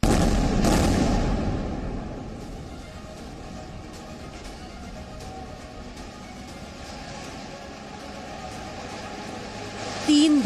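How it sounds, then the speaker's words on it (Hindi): A third air strike explosion on a Gaza building bursts out early as a sharp, heavy boom. It settles into a steady, distant rumbling roar that carries on evenly for several seconds. "तीसरा धमाका।"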